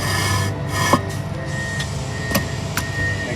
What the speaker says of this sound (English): What I like to do is I like to set them on top of each other, slide it into place, slide it forward, and then slide it on down into place.